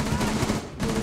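Gunfire in the video game Rainbow Six Siege: a loud, dense burst of rapid automatic shots at close range, with a brief gap before the firing resumes.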